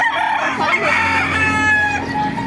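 Several roosters crow loudly and close together at a busy chicken market in Baliuag, Bulacan, with overlapping drawn-out calls, hen clucks and faint background chatter.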